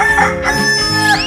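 A chicken sound effect from a 3D animal slide video game lets out a loud, close squawking call in a couple of bursts over about a second, alone and clear.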